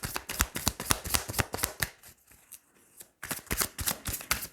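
Tarot cards riffled and shuffled in rapid bursts of crisp papery flutters, close and clear, with a short quieter pause before another flurry.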